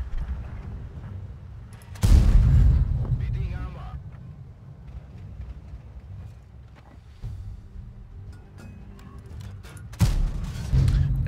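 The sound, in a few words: tank cannon fire in World of Tanks video game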